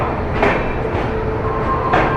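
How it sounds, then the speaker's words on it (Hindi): An Indian Railways Rajdhani Express hauled by a WAP-7 electric locomotive rumbles along, steady low rolling noise with periodic rhythmic wheel clacks over rail joints. "कल्याण सेट का वेब 7 लोकोमोटिव लगा हुआ है अपने CSMT राजधानी में।"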